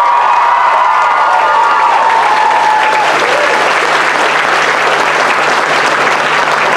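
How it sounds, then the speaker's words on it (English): School variety show audience bursting into loud applause and cheering, close and continuous, with a shouted tone fading early and dense clapping filling the rest. "So give her a big cheer."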